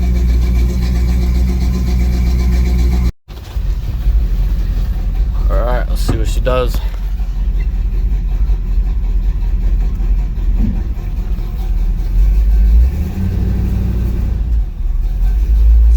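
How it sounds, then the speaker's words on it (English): An old red truck's engine turns over and settles into a steady, loud idle to warm up. The rumble continues throughout, and brief voices and clunks are heard over it. "So I'm gonna let this truck warm up."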